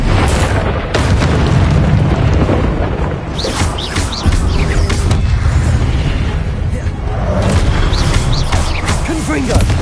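Repeated booming Confringo spell blasts in Hogwarts Legacy hit statues, loud and close, with crumbling debris and rumbling between impacts and a voice shouting spell names over the din.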